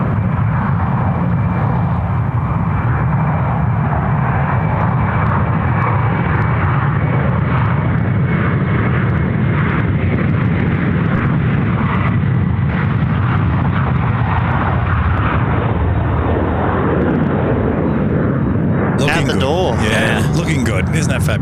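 Airliner in retro heritage livery on its takeoff roll at Sydney Airport, runway 34 right, engines giving a loud, sustained roar that swells steadily for about twenty seconds, with a burst of broadband noise near the end.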